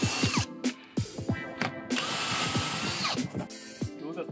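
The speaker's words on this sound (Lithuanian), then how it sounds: "Kamo rankinis įrankis, Kamo grąžtelis, privalom pasiruošti skyles." A drill pre-drilling holes in Bangkirai exotic hardwood decking boards during terrace installation, with close, loud bursts of whirring that start and stop in short repeated runs and pause between holes.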